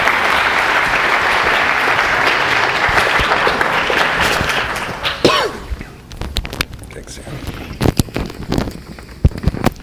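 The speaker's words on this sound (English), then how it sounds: "if you guys could just give a quick round of applause for Dr." Audience applause at an information systems orientation, a dense burst of clapping that fades after about six seconds into scattered claps and room noise.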